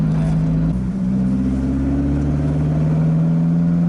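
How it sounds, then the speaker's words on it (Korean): Four-cylinder dual-VVT engine of a Lotus Elise 250 Cup, heard from inside the car as a loud, steady exhaust drone with a slowly rising pitch, alone. "4기통짜리 차로 이 정도 배기음을 내려고 쉽지 않았을 것 같아."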